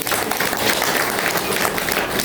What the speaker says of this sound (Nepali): तालीबाट स्वागत गरौँ।